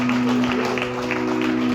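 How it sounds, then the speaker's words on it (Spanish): A church congregation gives a steady round of applause during a sermon, with an organ-like hum sustained underneath. "Denle un aplauso al Señor."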